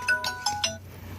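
A phone ringtone in a Bhojpuri comedy sketch plays two or three bright electronic tone bursts, close and clear, over a low background hum, fading out at the end.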